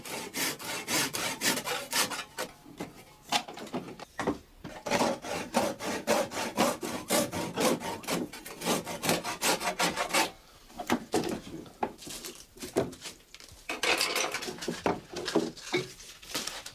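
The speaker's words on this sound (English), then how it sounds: "The protruding fork ends saws off Bernhard Nelson with the handsaw" A handsaw cuts through the protruding wooden fork ends of a handmade Ruhrberg rake, a steady run of rhythmic back-and-forth rasping strokes, close and loud, with short pauses between bursts.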